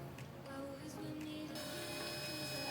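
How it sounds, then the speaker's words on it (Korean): A 3D printer runs a print job for a brush holder, giving off a steady, close mechanical whir of stepper motors with shifting tones and no talking. "슬라이스된 파일을 USB에 담아 3D 프린터에서 열고 출력을 시켜줍니다."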